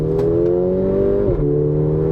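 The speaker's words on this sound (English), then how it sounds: "The exhaust mode has activated, so let's have a feel." A steady, loud engine drone from inside a 2018 Mercedes-AMG GLA45 after a downshift with exhaust mode active, rising slightly as it revs, briefly dipping, then continuing at a constant hum.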